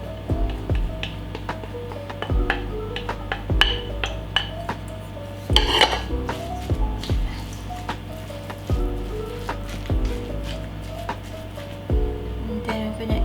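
Chopped onion and carrots being mixed in a bowl for meatloaf, with repeated knocking and scraping of a utensil against the bowl in an uneven rhythm, close and fairly loud, no speech.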